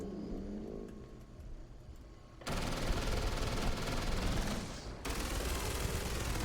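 Sustained loud automatic gunfire erupts in a video game shootout, rapid dense bursts running continuously for several seconds after a quieter opening stretch.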